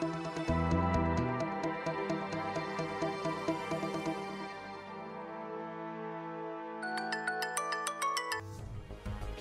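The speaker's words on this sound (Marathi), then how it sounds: "मी फोन करते तिला।" A mobile phone ringtone plays while a call is placed at home in a Marathi TV serial scene, a steady electronic melody of repeating tones continuing for several seconds with no talking over it.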